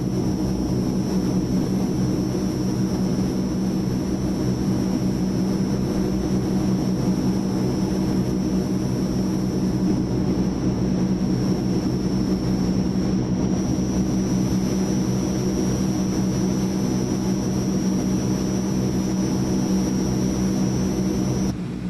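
A Transall C160 twin-turboprop cargo plane cruises in Microsoft Flight Simulator, giving off a steady, loud engine drone with a constant high whine above it, unbroken and unchanging, with no voices.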